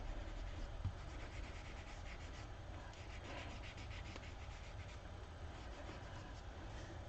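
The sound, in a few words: burnishing a relief print block by hand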